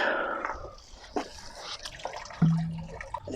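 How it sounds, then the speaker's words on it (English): Water is emptied from a Big Blue filter housing onto a lawn outdoors, making faint, intermittent splashes and trickles. "So first I'm going to empty out all the water into the lawn here."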